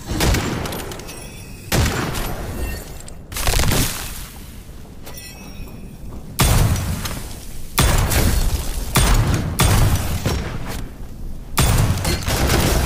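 Rifle fire rings out against enemies in the first-person shooter Witchfire. Loud, rapid bursts of shots with impacts repeat every second or two across the whole stretch.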